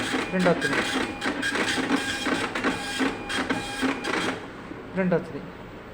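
A printer prints a page with repeated rhythmic mechanical clacks and whirring feed strokes, close and fairly loud, while a person talks over it.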